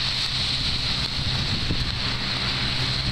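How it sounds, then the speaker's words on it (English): Constant wind noise roaring across the microphone on a rainy day in Portland, Maine, a dense hiss and rumble that stays loud and even throughout, with no voices. "And it's windy."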